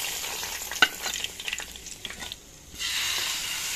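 Fried golden onion tempering poured onto vegetables in a pan sets off a loud sizzle with a sharp splash at the start, then steady frying hiss and scraping stirs, fading briefly before the sizzle swells again.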